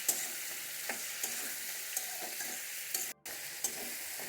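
Paya (trotters) and a mutton and chicken curry mixture are stirred in a pan. A soft, even sizzle runs under light periodic scrapes of a spatula, with a brief drop to near silence partway through and no voices.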